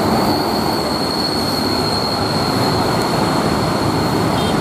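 A Raja executive passenger train passes and speeds up on straight, curving track. A loud continuous rumble of wheels on rail carries a steady high squeal throughout, with no talk.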